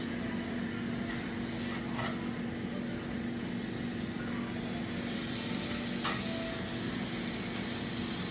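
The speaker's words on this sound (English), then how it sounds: "as the meat browns, you kind of just break it apart" Ground meat browns and sizzles steadily in a pan, a constant close hiss with faint occasional scrapes and no voices.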